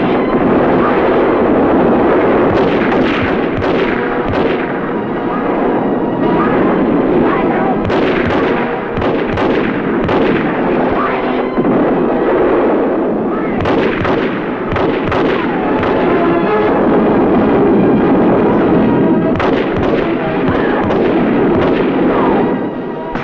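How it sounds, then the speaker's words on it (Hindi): Sustained volley of gunfire from soldiers firing indiscriminately into a crowd, loud and dense with repeated bursts of shots and booming reports over a continuous roar, with no pauses. "उसके हुक्म पर सैनिकों ने अंधाधुंध गोलियां बरसानी शुरू कर दी"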